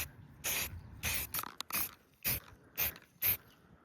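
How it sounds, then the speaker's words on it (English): Short hissing bursts from a warmed spray paint can coating small 3D-printed model train faces, about seven separate close sprays of under half a second each, with quiet gaps between them. "I've heated up my spray paint can in a bottle of warm water just so it sprays better"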